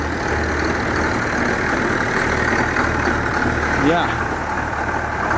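An Allis-Chalmers 7050 tractor idles to warm up on a snowy March day, a steady low rumbling drone that holds constant and close, with a person talking briefly over it.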